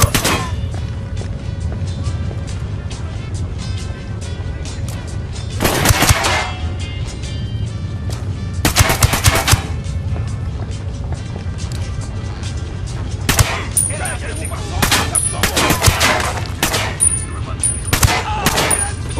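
Bursts of gunfire in the video game Ghost Recon Wildlands, several loud volleys of rapid shots in clusters over a continuous low rumble.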